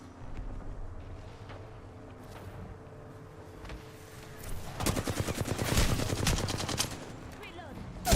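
Apex Legends gunfire, rapid automatic bursts that build into a loud, dense volley of shots near the end, over quieter game ambience with faint voices in the background.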